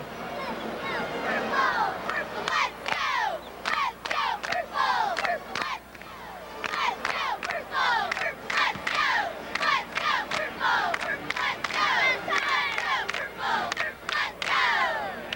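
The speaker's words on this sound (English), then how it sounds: "They're going to do a little cheer for us now." A high school cheerleading squad performs a cheer in a gym at a boys' basketball quarterfinal, with rhythmic group shouts and a loud crowd yelling and cheering throughout, broken by short pauses.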